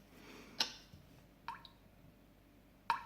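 Ticking clock setting on a rechargeable Avantek white noise machine: sparse, soft ticks spaced irregularly about a second apart, faint and alone over quiet background hiss.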